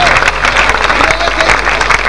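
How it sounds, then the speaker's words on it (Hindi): At a grand revival crusade, a large congregation claps loudly and rhythmically with hands raised in praise, a close, crowded burst of applause with voices mixed in throughout. "अपने हाथों को ऊपर की सिमत में उठा के खुदावंद के नाम को तालियां बजाकर जलाल देंगे।"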